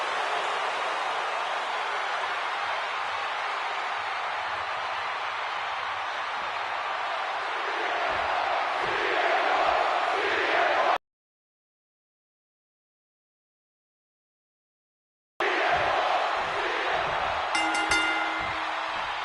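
A WrestleMania crowd cheers in the WWE 2K26 video game, a steady, loud arena roar that swells, cuts out completely for a few seconds, then returns.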